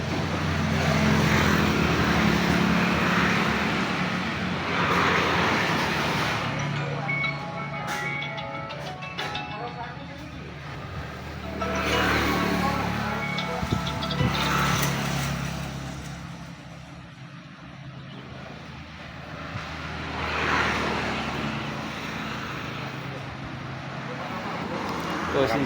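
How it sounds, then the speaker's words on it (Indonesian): An air compressor runs with a steady low mechanical drone and swelling, fading motor noise over a long stretch, while a voice speaks at times. "Ini posisi kompresor nyala."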